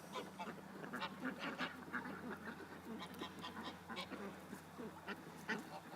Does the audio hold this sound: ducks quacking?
yes